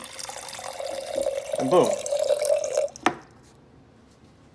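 Water pours from the spout of a 2.5 gallon jug in a steady, close stream for about three seconds, then stops with a short knock. A brief voice is heard over the pour.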